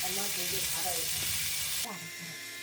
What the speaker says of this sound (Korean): 고기가 다 익으면 덜어놨던 표고버섯 넣고 소금 한 꼬집, 찐수제 굴소스 둘러서 가볍게 버무리듯 볶아주세요